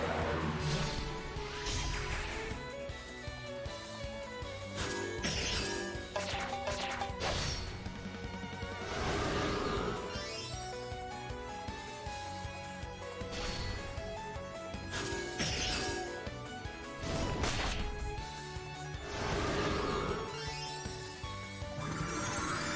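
Dark Blade and Mega Wind Blast attacks land in Romancing SaGa re;UniverSe as repeated crashing hits and swooshes over loud, continuous battle music, with several strong impacts spaced through the fight.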